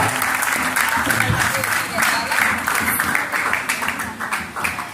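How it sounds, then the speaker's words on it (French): A wedding congregation applauds inside a church during the nuptial ceremony, a dense, steady wash of many hands clapping that stays loud and even for the whole stretch. "Je vous demande de les applaudir s'il vous plaît. Plus fort."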